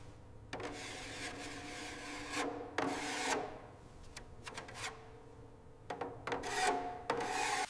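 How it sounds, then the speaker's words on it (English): Hand sanding a body panel of a 1936 Bugatti Type 57 Atlantic during restoration, with intermittent close, raspy strokes in short irregular bursts over a quiet, low background hum. "Each panel is sanded, inspected, and corrected with precision, ensuring original geometry is preserved."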